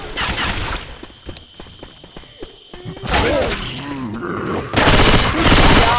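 Rapid gunfire and shattering impacts in the co-op zombie shooter Left 4 Dead 2, a dense burst of shots early on, then louder chaotic bursts later, with voices shouting over the action.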